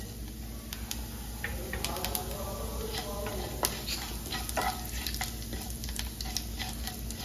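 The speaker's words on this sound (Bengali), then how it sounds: "এবার জিরেটা ফোড়ন দিয়ে দেবো" Cumin seeds crackle and sizzle in hot oil in a wok while tempering for palak paneer, a steady, close frying hiss with small sharp pops scattered throughout.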